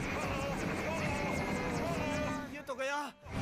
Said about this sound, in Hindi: पूरी तरह चक्कर खाते हेलीकॉप्टर को पायलट नियंत्रित करने की कोशिश करता है